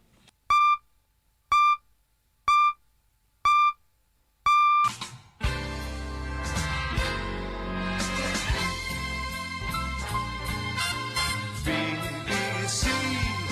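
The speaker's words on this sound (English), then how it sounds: "It's now coming up to the beeps," Five evenly spaced BBC radio time-signal pips sound once a second, loud and clean, leading straight into a swelling orchestral news fanfare that fills the rest.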